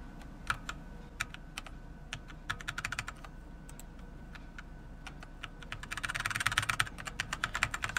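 Computer keyboard keys tapped during play of the horror game Final Nights 3: scattered single clicks at first, then a dense burst of rapid typing near the end, close and clear over a quiet hum.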